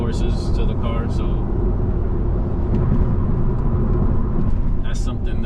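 Big-turbo BMW B58 Gen 1 340i driving, a constant loud cabin drone of engine and road noise from inside the car, with a few brief higher-pitched accents over the steady rumble.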